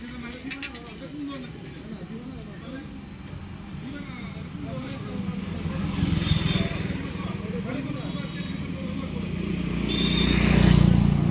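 A motorcycle engine runs steadily close by and swells louder toward the end as it revs, with people talking over it.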